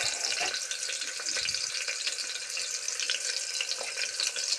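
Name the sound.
onions frying in a pan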